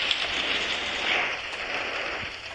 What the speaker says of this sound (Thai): แล้วผมก็ดันกลัวเสียงฝนตก อีกแล้วนะ